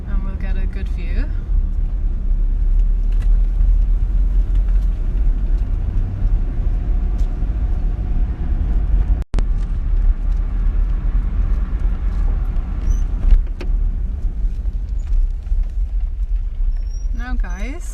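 A car drives along a road near Kinsale, Ireland, with a steady low engine and road rumble heard from inside the vehicle, and a person talks over it.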